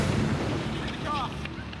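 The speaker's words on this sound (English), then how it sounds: "A single gunshot rings out." A single gunshot from a carbine or handgun cracks out during an armed ambush outside a prison in Ireland, heard as a short sharp report within a rumbling, noisy low background.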